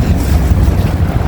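Strong wind buffets a microphone outdoors in Athens, Greece, a loud, continuous low rumble with uneven gusty surges and no voices over it.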